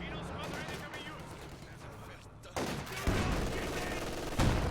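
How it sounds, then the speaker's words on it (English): Gun barrage in the Company of Heroes 2 strategy game, a dense rattle of automatic fire and explosions that grows louder in abrupt steps, with heavy bursts overlapping continuously. "Zis barrage and flare in combination, so Quiritz pushes his forces up"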